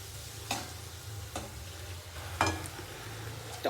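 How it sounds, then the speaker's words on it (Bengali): Spice paste of green chillies, cumin and coriander powder with water frying alongside tomato in a pan, a soft steady sizzle broken by several sharp stirring scrapes at irregular intervals. "মশলাটা, একটু ভাজা ভাজা হবে টমেটোর সাথে।"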